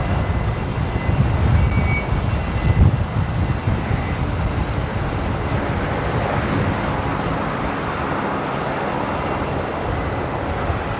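An airliner passes nearly overhead after a right-hand turn near Brisbane Airport, its jet engines a broad, steady roar that swells slightly then holds loud and continuous.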